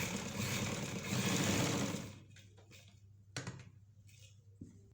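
A sewing machine stitches cloth in a steady, fast whirring run for about two seconds, then stops, leaving a few quiet clicks and handling sounds.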